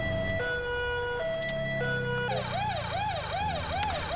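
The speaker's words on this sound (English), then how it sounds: "We've got our lights and sirens on, we're trying to get there quickly and safely." A British-style police vehicle in GTA 5 runs with lights and sirens, first a two-tone hi-lo wail, then switching to a fast rising-and-falling yelp over road noise.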